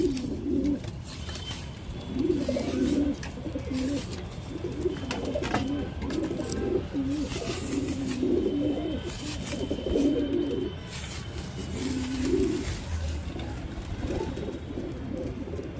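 Pigeons coo in repeated soft, throaty phrases close by, recurring every couple of seconds over background rustling and small knocks, with no talk.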